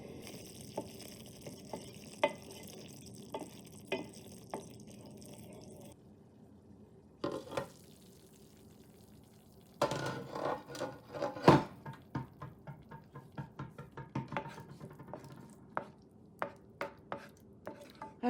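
Tomato thokku mixture cooking in a pan, a steady frying sizzle under repeated close knocks and scrapes of a spoon stirring, with irregular clatters through the middle and end.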